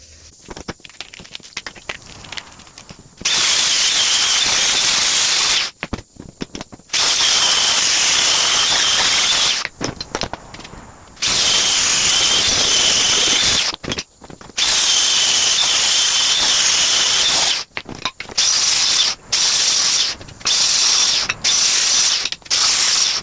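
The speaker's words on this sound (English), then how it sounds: "I just hit them with a flap wheel real quick." A flap wheel grinds against steel lawn mower blades from an Exmark Lazer Z during sharpening, a loud, harsh whine in several long bursts separated by brief pauses.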